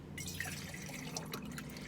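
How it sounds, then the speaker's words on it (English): Alkaline water poured from a bottle into a glass, a quiet close trickle with small drips and splashes continuing steadily for a couple of seconds. "Just pouring some more alkaline water in there."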